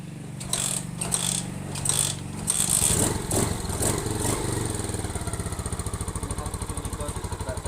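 An old 1990s Sonic motorcycle with its original engine starts up close by: a few seconds of rough mechanical clatter and revving, then a fast, steady, even putter as it settles into idle.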